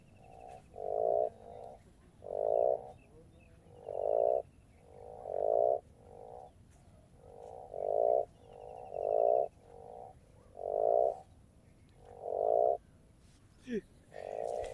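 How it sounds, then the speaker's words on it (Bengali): Frogs croak outside a farm house in regular, evenly spaced bursts, fairly close and clear against a quiet night background, with no voices. "দেখো ব্যাঙের আওয়াজ শোনো।"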